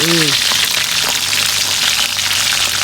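Food frying in hot cooking oil as it is flipped, a loud, dense crackling sizzle close by that runs unbroken throughout, with a brief voice at the start.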